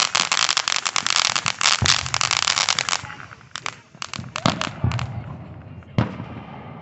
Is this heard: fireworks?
yes